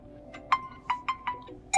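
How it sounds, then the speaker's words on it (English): A phone ringtone plays on a Realme Note 70T as a short sequence of bright, tonal notes about a quarter second apart, clear and close over a faint steady hum, ending on a higher note. "click on ringtone and just choose the one that you like the most"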